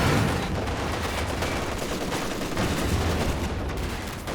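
Machine gun fire in the World War II strategy game Company of Heroes 2 rattles in rapid bursts amid scattered distant gunshots, a continuous moderately loud fusillade with no voices.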